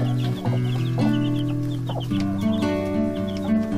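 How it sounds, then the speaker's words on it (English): A broody hen clucks and murmurs close by in low, repeated tones, with softer high peeping from three or four chicks scattered throughout. "We have a broody hen and some 3 or 4 chicks inside there"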